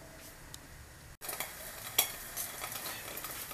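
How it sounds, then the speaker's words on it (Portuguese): An egg frying in a covered pan, giving a steady soft sizzle with a brief drop near the start and small crackles and pops throughout. "vamos deixar ele fritar, sem colocar a mão, sem virar, sem ficar mexendo"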